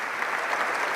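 Steady applause from an audience at a tribute ceremony, a continuous wash of many hands clapping, fairly loud and even throughout the brief moment with no voices.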